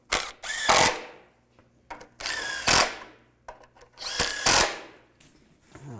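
A power drill drives bolts tight during a timing chain replacement on a 2002-2009 Chevy Trailblazer, three close bursts of whirring and ratcheting, each ending with a sharp spike, separated by short quiet gaps.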